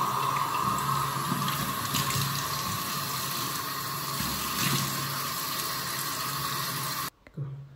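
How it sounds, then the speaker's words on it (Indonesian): Tap water runs steadily in a bathroom sink for face washing, a continuous close hiss that cuts off abruptly near the end, leaving a brief quiet clatter. "Pertama, cuci muka dulu."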